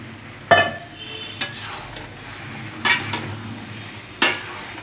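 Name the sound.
boiled jackfruit added to spiced masala in pan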